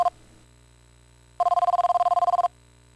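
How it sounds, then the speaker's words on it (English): A telephone rings in The X-Files video game: one short electronic burst at the start, a pause, then a longer rapid trilling ring, loud and clean against a quiet background with no speech. "Hey, we're getting a phone call."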